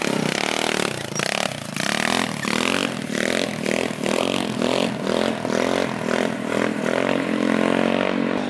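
A GY6 150cc scooter engine fitted with a custom exhaust revs hard and continuously, a loud, raspy buzz with rising and falling pitch that stays close throughout, no voices.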